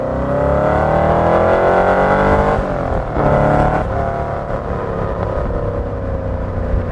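Loud and close, a 1963 Chevrolet Corvette Stingray engine revs up and settles back, its deep roar broken by a brief dip and surge before dropping to a throaty idle, with no voices.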